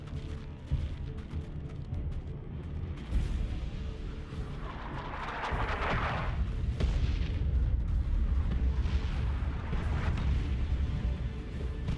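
Artillery fire and explosions in the Warhammer 40,000: Dawn of War 2: Chaos Rising battle, heavy booms and rumbling blasts rolling continuously through the whole stretch with dense, loud low-end impacts and crackling bursts.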